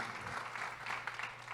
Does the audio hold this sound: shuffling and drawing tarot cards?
no